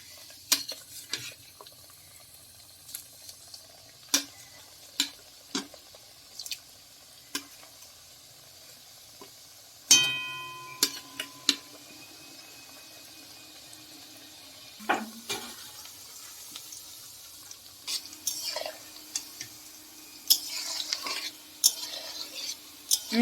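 Small pieces of nimki dough fry gently in mildly hot oil over a low gas flame, a faint quiet sizzle punctuated by scattered clinks and scrapes of a utensil stirring the pieces.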